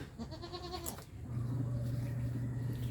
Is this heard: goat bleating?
yes